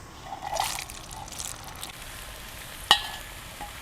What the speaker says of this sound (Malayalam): ഇനി മുന്തിരി ഒന്ന് വറുത്തെടുക്കാം.